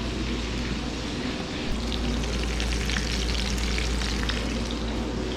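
Fish fries in a pan with a loud, dense, constant crackling sizzle that stays steady and close, with no talk over it.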